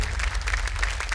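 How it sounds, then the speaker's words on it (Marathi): A studio audience at a Marathi television show claps steadily and loudly, a dense, continuous burst of applause with no talk over it. "एकदा जोरदार टाळ्या झाल्या पाहिजे."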